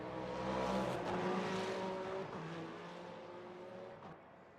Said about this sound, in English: LMU is making it sound a little bit like an F1 V6 a little bit